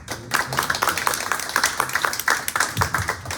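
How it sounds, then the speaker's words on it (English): Audience applause for author James R. Benn at a bookshop talk and signing, a short patter of clapping from a modest crowd, fairly close and moderately loud, with a faint voice underneath. "we can give James a round of applause first"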